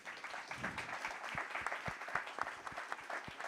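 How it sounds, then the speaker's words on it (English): An audience at a panel discussion gives a round of applause for the panelists, soft and somewhat distant, with a patter of many hands and a few sharper individual claps standing out. "1 minute is definitely enough for a big round of applause for our panelists"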